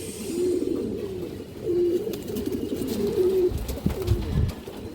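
Pigeons, large-bodied big-headed birds at a pigeon market, cooing in low repeated throaty phrases close by, several overlapping calls over faint background.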